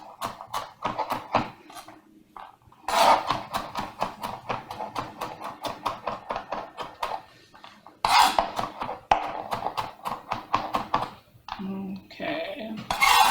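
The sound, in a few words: knife chopping garlic cloves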